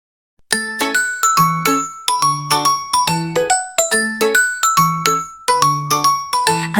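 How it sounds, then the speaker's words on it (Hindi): A bright, tinkling bell-like jingle for an ice cream vendor plays as a rapid melodic run of ringing tones, repeated in steady bursts throughout, loud and up close with no talking. "बजा बजा के घंटी लाया रे"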